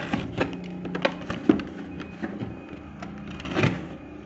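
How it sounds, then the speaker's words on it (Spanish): A knife slicing through the tape and cardboard of a large box, heard as a few short scraping cuts and rustles up close, with quieter handling between strokes. "vamos a abrirlo cortamos una parte y luego la parte frontal"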